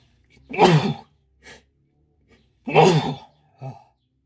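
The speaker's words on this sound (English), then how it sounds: "that's my daily sneezes done" Two sharp sneezes, each followed by a brief breath, close to the listener in an otherwise quiet space.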